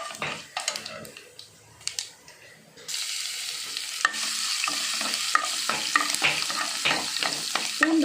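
Crushed garlic sautéing in a pan for a small-amaranth greens and raw mango thokku: scattered stirring scrapes at first, then a steady loud sizzle with repeated spoon clicks and scrapes on the pan.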